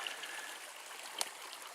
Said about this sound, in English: this has got to be the nicest stream so far in this trail